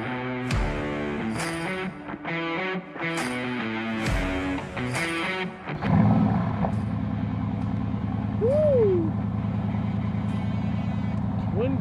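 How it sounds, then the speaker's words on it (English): A Mercedes twin-turbo V8 at a North Carolina car show sets up a deep, steady, close grumble that takes over after a stretch of louder, choppy mixed sound, holding strong to the end. "Twin turbo V8, beautiful, beautiful sound of just Mercedes grunt that you typically don't get anymore in the Mercedes."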